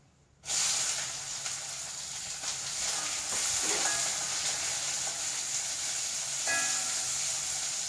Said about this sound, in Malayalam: നമ്മൾ ഈ ചെറിയ ഉള്ളി ഇങ്ങനെ വട്ടത്തിൽ അരിഞ്ഞു വെച്ചിട്ടുണ്ടല്ലോ അത് അങ്ങനെ ഇട്ട് കൊടുക്കാം